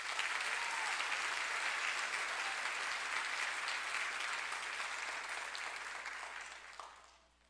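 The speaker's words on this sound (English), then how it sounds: "Once again, let's give them a round of applause." Audience applause at a school band concert, a dense, sustained wash of clapping from a large crowd that holds steady and then tapers off at the end.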